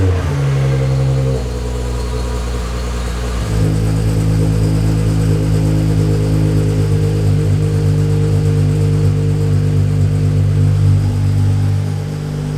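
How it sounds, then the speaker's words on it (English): Volkswagen Corrado with a 2.9 VR6 engine coming to life: a loud, close, low mechanical rumble that shifts down after the start and settles into a steady idle. "let's get this car started up and see if it actually starts"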